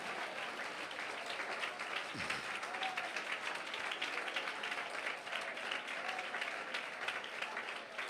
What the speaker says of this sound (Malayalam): കരങ്ങളെ അടിച്ച് വിശ്വസിക്കുന്നവർ ദൈവത്തെ സ്തുതിച്ച് നന്നായി കൈയടിക്ക്